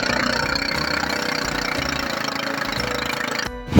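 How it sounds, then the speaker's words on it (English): A cassava grating machine crushes peeled, washed cassava for garri, its motor running with a loud, steady engine drone and rhythmic knocking pulses, then dropping out near the end before a brief burst. "the cassavas are grated or crushed with a machine to reduce the particle sizes"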